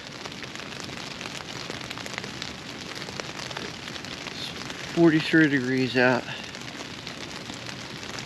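Steady rain patters outside in a soft, continuous hiss, with someone briefly speaking over it partway through.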